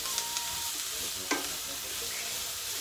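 Fajita-style peppers and onions fry in a hot pan with a steady, close sizzle, broken by a few stirring scrapes and clacks.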